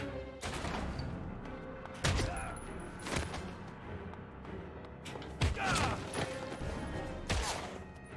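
Sharp gunshots from the video game Heavy Rain crack out in a scattered series, with several loud bursts standing out over a steady background of game sound.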